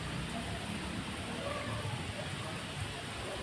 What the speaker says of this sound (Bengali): সুন্দর বৃষ্টি হচ্ছে।